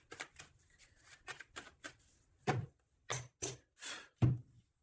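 A deck of oracle cards being shuffled and cut, with a quick patter of riffling cards followed by several distinct slapping sounds, close and soft.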